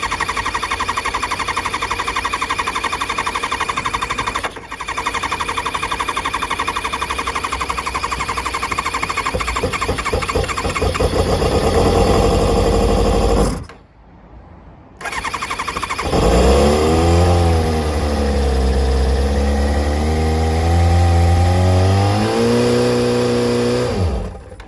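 A 1997 Kawasaki ZZR600 motorcycle, just through a carburettor rebuild, cranks and catches, runs loud and close, cuts out briefly, then restarts and revs up and down in rising and falling swells.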